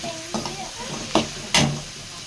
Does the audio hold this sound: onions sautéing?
yes